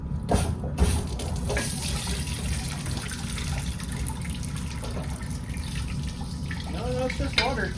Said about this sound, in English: No, it's just water.